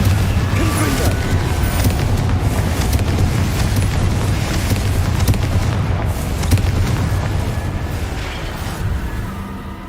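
A Confringo fire spell in the video game Hogwarts Legacy sets off a continuous, loud, rumbling blast that roars steadily for several seconds and eases slightly toward the end.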